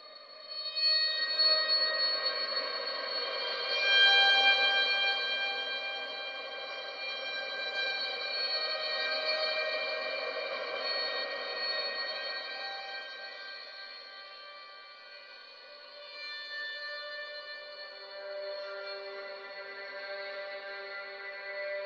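Bridge of Glass, a glassy string texture patch from an Emergence Audio sample library of double bass, cello and violin, swells and shimmers with bright, sustained overtones, evolving slowly and alone at a moderate level.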